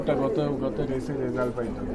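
Racing pigeons coo low and steadily at a loft as birds return from a race, largely buried beneath someone talking close by throughout.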